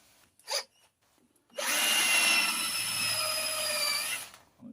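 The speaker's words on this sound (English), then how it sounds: "Now I've actually got a 14mm spade bit. I'll just drill off in a scrap," A 14mm spade bit bores into a piece of scrap with a power drill, a brief tap first, then about three seconds of steady, loud whirring and grinding that stops abruptly.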